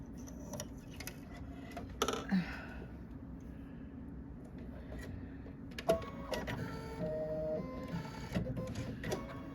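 An embroidery machine quilting in the hoop, stitching with variegated thread, gives a steady mechanical whir broken by sharp ticks and clacks of the needle at irregular intervals.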